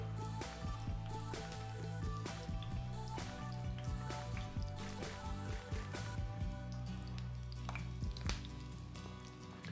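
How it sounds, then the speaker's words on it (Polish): Quiet crackling and popping of croquettes frying in hot oil, with soft scattered taps and a steady low hum underneath. "Tłuszcz jest rozgrzany, więc możemy zacząć smażyć."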